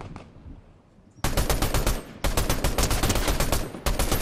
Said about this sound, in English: Is someone shooting at us?